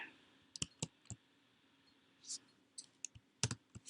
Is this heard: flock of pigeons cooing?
no